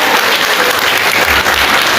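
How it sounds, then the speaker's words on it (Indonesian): Loud, continuous applause from an audience of schoolchildren at a school quiz competition between two elementary schools, a dense wash of clapping with no one speaking. "Ya, tepuk tangan lagi dong untuk mereka."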